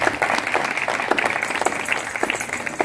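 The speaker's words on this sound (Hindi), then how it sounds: "उनके लिए जोरदार तालियां बजाएं।" An audience breaks into applause during a talk, a dense continuous patter of many hands clapping at steady loudness throughout, filling the room.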